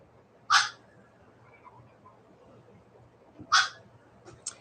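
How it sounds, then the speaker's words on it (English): A dog gives two short, sharp yips or barks in the background indoors, spaced about three seconds apart over a quiet low hum. "you guys got to hear the dog in the background"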